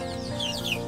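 Three local desi chicks about twenty days old, held in a polythene bag, give a couple of thin, high peeps over a steady low hum in a very brief moment.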